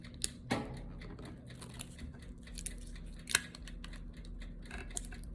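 Heat tape is pulled tight across sublimation paper wrapped around a tumbler. It makes close, crinkly tearing bursts and scattered small clicks and snaps, with no talking.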